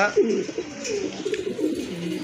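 Pigeons coo in low, soft, throaty rolls close by, with several overlapping calls running continuously through the short stretch, the birds at a pigeon seller's place.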